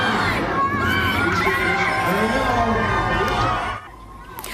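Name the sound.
crowd cheering at Artemis II launch watch party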